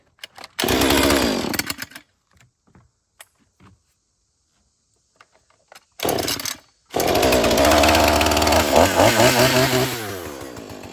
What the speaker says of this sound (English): Little Husqvarna 440.